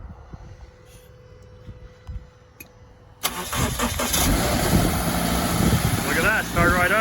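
A car engine cranks and catches after a quiet stretch of faint background noise and a voice, then roars up to a loud, rough idle that keeps running close by.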